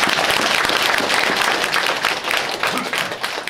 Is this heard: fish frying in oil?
no